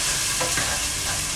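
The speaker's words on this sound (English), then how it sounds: "Something about frying onions that always makes me happy for some reason." Onions fry in hot oil, giving a close, steady sizzle with brief stirring scrapes in the pan, and no voices.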